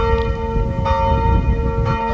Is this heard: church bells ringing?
yes